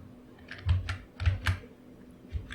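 Computer keyboard keys tapped while entering a command on a Windows PC, a few quick close clicks in small bursts over a quiet background.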